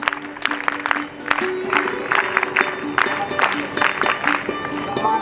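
Audience clapping for a guest at a girls' character-building camp convocation ceremony, steady applause filling the hall, with crowd noise and some voices mixed in.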